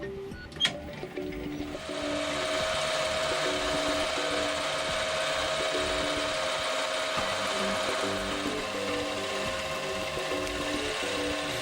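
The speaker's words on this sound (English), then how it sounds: "I turned the blank to the correct outside diameter and then drilled and bored the hole to the correct size" Lathe turning and drilling a watch blank to diameter, a steady machine whir with a high whining tone running continuously after a brief clatter at the start, with no voices.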